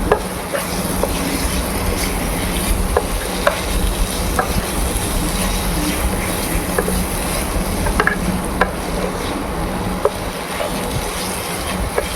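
Ginger garlic paste sautéing in a pan for cheese pasta, a steady low sizzle with occasional light scrapes and taps of a spoon, close and even throughout.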